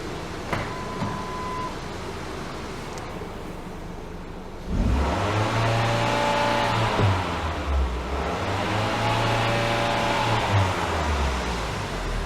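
A car engine with electronic throttle control revs up from a quiet idle, then rises and falls in two steady swells while sitting stationary, with no talk over it.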